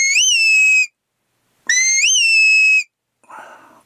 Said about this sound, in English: I'm going to start with the come-by whistle. And this is in a low tone.